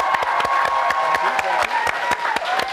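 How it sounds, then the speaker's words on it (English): Crisp, loud claps in a quick, fairly even rhythm over a murmuring crowd at a school, with a voice calling out briefly. "Let's give him a big round of applause"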